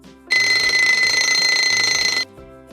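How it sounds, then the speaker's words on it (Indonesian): An alarm clock rings loudly and continuously for about two seconds, a harsh metallic bell that starts and stops abruptly in a quiet room. "bunyi alarm, ringing alarm"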